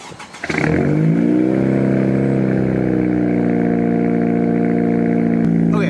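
A 2017 Honda Civic Si engine with intake and muffler delete cold starts: it cranks briefly, catches, and flares up before settling into a loud, steady high idle, heard close up.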